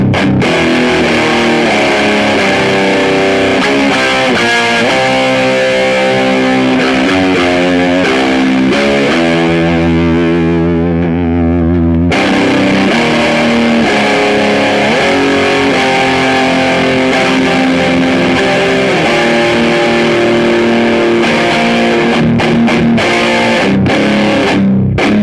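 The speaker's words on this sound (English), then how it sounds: "Now let's try the distortion with the humbucker set." Switch Vibracell electric guitar played through distortion on its humbucker pickup, loud sustained chords and riffs with a brief pause near the middle, no talking.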